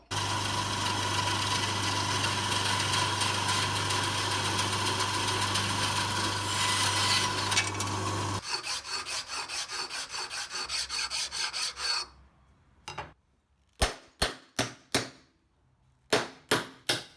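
Saw or rasp cutting away raised plastic post supports on a plunge router base, a dense continuous grinding buzz that breaks into separate rhythmic strokes, then a few sharp isolated scrapes amid silence.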